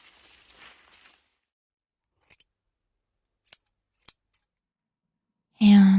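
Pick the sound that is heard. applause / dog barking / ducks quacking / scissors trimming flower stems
scissors trimming flower stems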